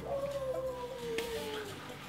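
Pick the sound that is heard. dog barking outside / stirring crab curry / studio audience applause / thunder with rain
dog barking outside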